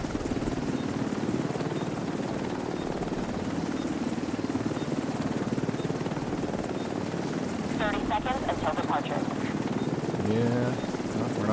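A helicopter in the video game Dark Zone, a steady rhythmic rotor thump and engine drone throughout, with brief bursts of voices and chatter near the end.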